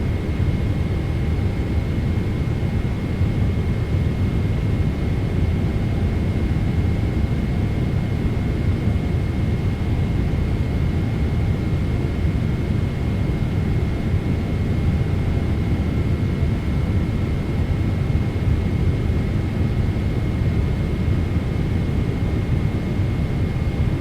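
A PMDG 777-200 airliner in American Airlines livery on short final into Dallas-Fort Worth in a flight simulator: a steady, loud broadband jet engine roar and airflow rush, unbroken and constant throughout with no voices.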